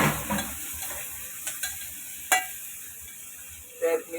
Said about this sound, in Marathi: त्यातच थोडीशी मी कोथिंबीर सुद्धा परतून घेणार आहे